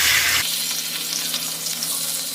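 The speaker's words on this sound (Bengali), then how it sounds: "প্রথমে মাছের মাথাগুলো আমি ভেজে নেব।" Hilsa fish heads dropped into hot oil in a pan, bursting into a steady, bright sizzle that stays loud and even after a brief initial rush.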